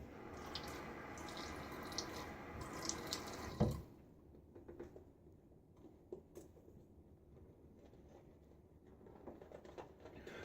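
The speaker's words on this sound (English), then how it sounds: "Just sprinkled some water on the brush to help to work this new soap into the lather." Water sprinkles and splashes onto a boar shaving brush for a few seconds, then stops abruptly, leaving a quiet room with faint occasional drips.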